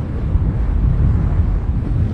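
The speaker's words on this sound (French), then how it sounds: "il y a du vent" Wind buffets the microphone at an outdoor club presidents' cycling criterium, a steady loud low rumble that continues without a break.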